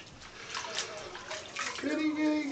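Water sloshes and runs as soap is rinsed off during a bath, a close, moderate splashing that swells toward the end, with a voice talking over it.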